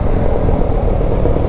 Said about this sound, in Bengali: M80-র মতো শব্দ হচ্ছে তো বাইকে